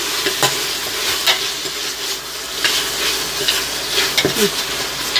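Slices of a small tomato fry in a pan for gongura chicken curry, giving a continuous close sizzle broken by repeated scraping stirs of a spoon against the pan.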